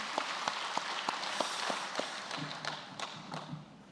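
Congregation clapping in a church after a choir's praise song, a burst of scattered, uneven claps with sharp taps spread through the room, moderately loud and continuing for several seconds without talk.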